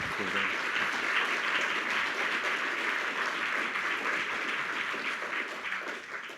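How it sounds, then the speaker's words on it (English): A forum audience on ecology and religion claps in a sustained, even round of applause for Al and Ray Jubitz of the Jubitz Foundation, dense clapping that gradually tapers near the end. "I would like a special round of applause for them."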